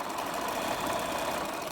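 A sewing machine runs continuously while stitching a scrubs bag, giving a steady, even mechanical hum and rapid needle chatter for a moment before stopping, close and moderately loud with no talking.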